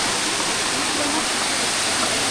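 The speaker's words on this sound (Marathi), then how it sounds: "झऱ्याचा पाणी वाहतोय" A jungle stream in India runs steadily where crabs are being caught, giving a continuous, loud broadband rush of flowing water with no breaks and no voices.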